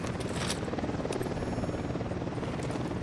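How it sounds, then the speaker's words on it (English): A helicopter's rotor thumps in a rapid, steady pulse, loud and close, with engine whine over the beating blades, in the video game Ghost Recon Wildlands. "Helicopter incoming."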